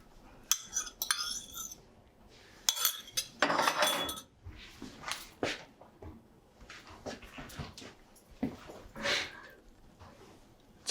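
Eggs are scrambled in a coated pan for a breakfast bagel. A utensil scrapes and clinks irregularly against the pan in close, sharp bursts, with quiet gaps between them and soft kitchen clatter.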